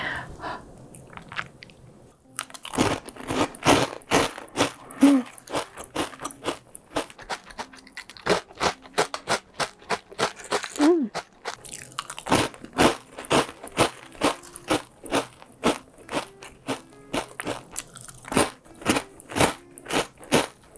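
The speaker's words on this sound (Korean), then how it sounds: "일단 제일 담백한 뉴룽지부터 먹을게요" Crisp nurungji scorched-rice snack bitten and chewed close to the mic, a steady run of sharp crunches in a repeating chewing rhythm after a short quiet start.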